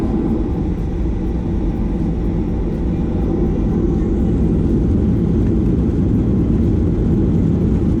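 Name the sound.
aircraft cabin engine noise during flight to Dublin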